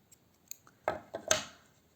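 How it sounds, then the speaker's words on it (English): Scissors snipping crochet yarn, a couple of sharp close metallic snips after a few faint clicks, set against quiet with no voices. "In the end, I will just chain 1 and cut the yarn."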